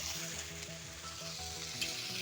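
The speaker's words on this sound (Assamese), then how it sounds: "এয়া আমাৰ খানাৰ পৰা মাংস বহাই দিয়া হৈছে" Meat sizzles and fries steadily in a large kadai, giving a dense, continuous crackle under a faint rhythmic musical hum, with no talking.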